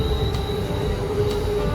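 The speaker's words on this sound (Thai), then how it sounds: "โอ้โหรถไฟมาแล้ว" An arriving train rumbles with steady rail hum and a high metallic whine, continuous and fairly loud, no voices.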